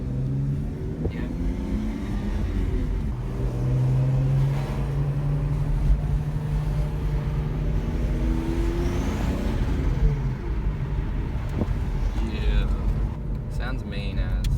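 A warmed-up car engine fitted with an AFR gauge runs loud and steady, with low rumbling tones that rise and fall as it revs, close up under occasional talk.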